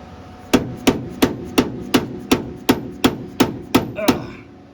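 Hammer blows ring out during installation of the engine in a 1966 GT350 Mustang, about ten sharp, evenly spaced metallic strikes, close and loud, with no talk.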